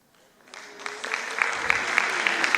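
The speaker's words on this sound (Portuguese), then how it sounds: "Palmas para vocês." Applause from an audience at a training meeting swells up from quiet into a full, steady round of clapping, a crowd of hands close by with a few sharper claps standing out.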